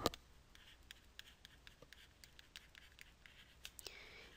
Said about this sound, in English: I'm going to write that over here.